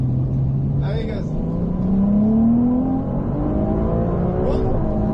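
A racing car on a circuit accelerates under throttle, its steady engine drone rising in pitch through the middle of the run; an instructor's voice talks over it in bursts.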